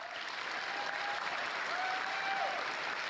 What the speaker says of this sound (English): Applaud him again.